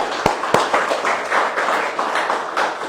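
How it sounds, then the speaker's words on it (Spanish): Brief applause from a church congregation during a Bible class, a few sharp claps at the start followed by a steady wash of clapping at moderate level. "Démosle un aplauso al Señor"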